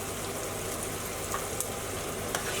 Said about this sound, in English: Because we are on a high heat, try to keep the garlic and ginger paste moving constantly to prevent it from burning.